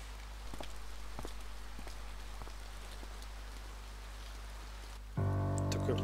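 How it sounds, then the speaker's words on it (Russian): Steady autumn rain falls throughout, a continuous soft patter with scattered louder drops striking a surface nearby, and a low hum joins in near the end. "А у нас сегодня тоже, блин, целый день дождь идет."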